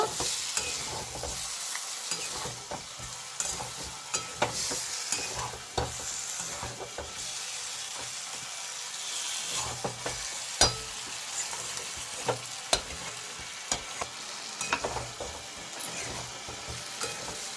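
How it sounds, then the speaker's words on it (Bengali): Gathi kochu taro sautés with a fish head in a pan: a quiet sizzle runs under frequent spatula scrapes and irregular knocking clicks against the metal. "গাটি কচুটা দিয়ে আমি ভালো করে 1 থেকে 2 মিনিট ভালো করে কষাই নেব।"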